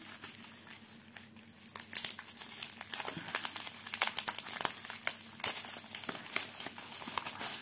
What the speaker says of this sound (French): Alors, je cherche l'ouverture du sachet.